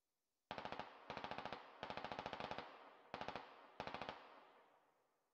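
Gunfire from the video game Squad: five rapid automatic bursts, each a quick string of sharp shots with a short decaying tail, separated by brief pauses and sounding fairly close against near silence.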